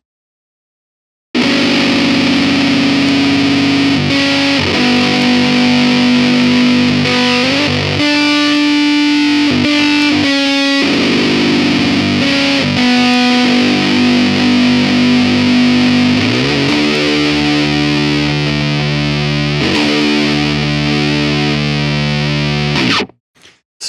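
Distorted electric guitar plays a heavy riff with a low part and a higher part together, thick and continuous through effects, loud and alone with sustained chords and shifting notes.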